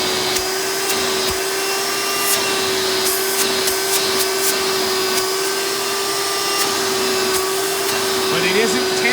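A Hoover Runabout Supreme U4269-930 direct-air upright vacuum cleaner with a wraparound hose runs continuously, up close and loud, with a steady motor whine and airflow roar. A few brief clicks and knocks occur over it.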